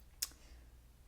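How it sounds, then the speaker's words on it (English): A single sharp keystroke on an Elecfox Inky75 keyboard fitted with matcha butter linear switches, close and crisp, followed by quiet room tone with no talking. "I love the sounds of these matcha butter linear switches."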